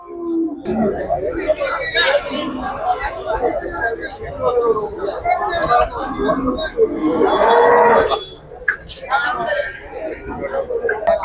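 Cattle low amid a busy crowd at the Melapalayam cattle market in Tirunelveli district, the calls rising over constant chatter and voices nearby, with a loud stretch of lowing toward the middle.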